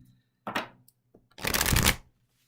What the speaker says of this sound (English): I really shuffled that time